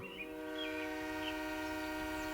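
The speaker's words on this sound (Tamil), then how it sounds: "சார் ட்ரெயின் இந்த வழியாக தான் வந்துகிட்டு இருக்கு" A train horn sounds a long, steady, multi-tone blast that holds throughout, fairly close and loud.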